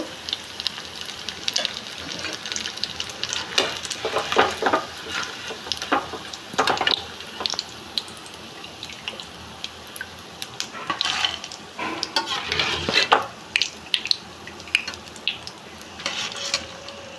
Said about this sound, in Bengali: এবার ভালো করে আস্তে আস্তে ভাজতে হবে।